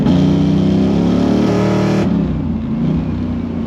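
An LT1 V8 in a third-generation Camaro revs hard from about 3,000 RPM in second gear, a loud, close engine roar building steadily before easing off near the end.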